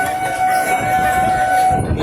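A passing train in Bangladesh rumbles loud and steady for a couple of seconds, with a thin high whine running over the noise.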